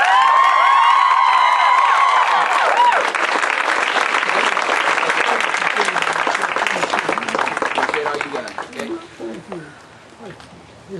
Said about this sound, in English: Round of applause for the